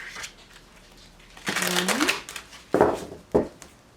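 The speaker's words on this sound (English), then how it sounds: "Two more shuffles for Gemini." Tarot cards being shuffled by hand in a few short bursts, close and crisp, with quiet pauses between and a voice speaking at moments.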